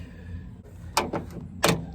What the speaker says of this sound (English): Hit the door latch.